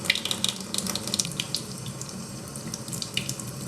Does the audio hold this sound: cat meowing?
no